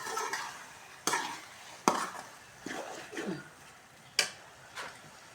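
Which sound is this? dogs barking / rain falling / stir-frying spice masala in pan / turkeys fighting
stir-frying spice masala in pan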